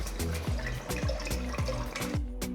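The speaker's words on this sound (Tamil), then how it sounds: "ஒரு பாத்திரத்தில் தேவையான அளவு தண்ணியை ஊற்றி" Water pours in repeated short bursts into a cooking pot, each splash rising in pitch as the vessel fills, close and fairly loud with no talking.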